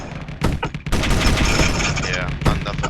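Dense, loud bursts of gunfire and rocket blasts from frigates battling in the video game Space Engineers, rapid overlapping shots and booms nearly continuous across the span.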